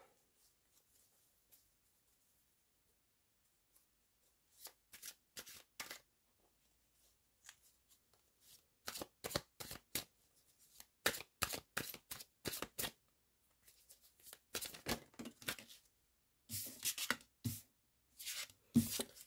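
Tarot cards being reshuffled during a reading: bursts of crisp riffling and slapping, in irregular clusters that grow denser toward the end, fairly close, no talk.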